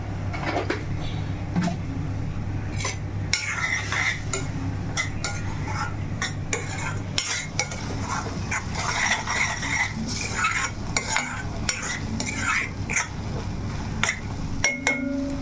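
A spoon stirring salt into chicken curry in a pot, with repeated scraping clinks against metal over a low steady hum of cooking, close and continuous, with no talking.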